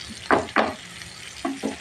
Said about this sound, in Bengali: দেখেন আপনার কত সুন্দরভাবে মাছটা ভাজা হচ্ছে